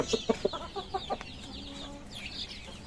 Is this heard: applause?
no